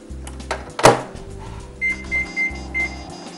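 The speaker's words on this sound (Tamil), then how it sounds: "ஜஸ்ட் ஒரு 2 minutes நம்ம இதை ஜஸ்ட் ஒரு ஹீட் வார்ம் பண்ணி மைக்ரோவேவ் பண்ணிக்கலாம்" A microwave oven heating oil with white sesame seeds for a kiwi mango chutney gives a door thump and click, a low hum, then a run of four short beeps.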